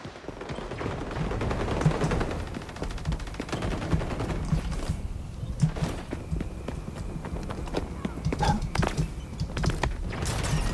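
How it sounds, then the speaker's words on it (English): Video game gunfire, with repeated sharp shots and bursts at moderate distance over constant background game noise and clattering, with no talking. "Someone over there is shooting."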